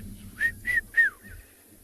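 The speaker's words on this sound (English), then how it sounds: "there's a bird calling called a red-chested cuckoo" A red-chested cuckoo gives three clear rising whistled notes in quick succession, the last falling away, against a quiet background.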